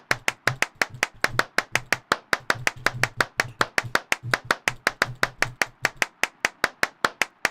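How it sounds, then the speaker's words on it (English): Steady, rapid hand claps from the video game Clapism, sharp and evenly spaced at about four per second, loud and close with nothing else heard. "Just keep clapping, okay?"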